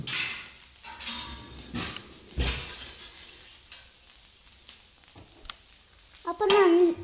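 A dosa fries on a pan after being flipped, giving a soft sizzle broken by scattered scrapes and metallic clinks of a spatula. A short voiced sound comes near the end.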